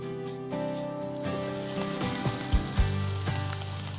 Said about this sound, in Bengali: এবার এটা আমি হালকা স্লো ফ্রাই করছি।